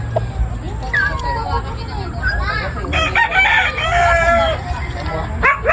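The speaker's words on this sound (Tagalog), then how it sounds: "Daming manok oh." Roosters crow repeatedly amid clucking chickens on a farm, long rising calls near and far, with people chatting in the background.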